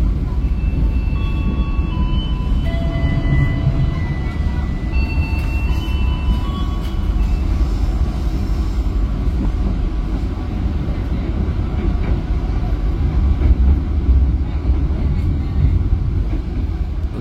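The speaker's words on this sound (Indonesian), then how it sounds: "Papasan Argo Merbabu yang arah Jakarta." From on board the Matarmaja train, a steady, close rumble and rattle of wheels on rails runs throughout as the Argo Merbabu passes the other way. Faint tonal squeals and hums rise and fall over the continuous roar.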